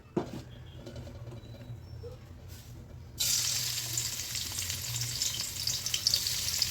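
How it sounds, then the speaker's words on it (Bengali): Sliced onions hit hot oil partway through to fry into birista, bursting into a loud, dense, crackling sizzle that stays steady after a quieter stretch of kitchen background. "তো এই জন্য একটু তেল নিয়ে এর মধ্যে আমি পেঁয়াজ বেরেস্তাটা আগে করে নিচ্ছি"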